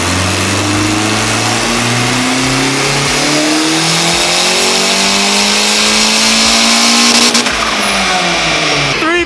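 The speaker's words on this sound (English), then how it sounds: "Oh, there's rev limiter." A Honda Civic 2.0 engine on a dyno revs hard and loud, pitch climbing steadily before bouncing off the rev limiter near the end, with a harsh, continuous roar throughout.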